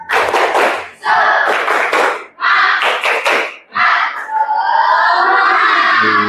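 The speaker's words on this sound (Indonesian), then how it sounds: "ayo kita tepuk semangat terlebih dahulu. Tepuk semangat." Children at a school lesson clap and shout a rhythmic chant in loud bursts separated by short pauses, the claps and voices together and close, ending with a sustained shouted call.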